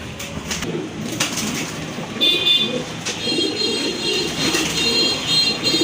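Several pigeons coo continuously in a close, busy chorus inside a cage, low throaty calls overlapping with a steady background hum.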